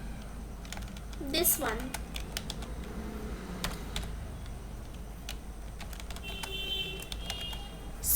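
Someone types code on a computer keyboard, producing a scattered run of quick, close clicks over low background hum, with a brief spoken voice near the start.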